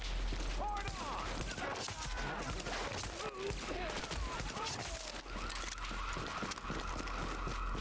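Gunfire in The Division video game, dense bursts of shots crackling continuously under a busy noisy mix, with people talking over the combat.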